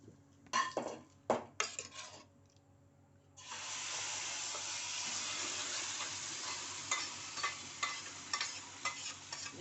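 Asafoetida dropped into hot oil for a tomato and moringa-leaf dal tempering gives a sudden steady sizzle after a few clinks of a pan, with light spoon scrapes stirring through the faint, close frying.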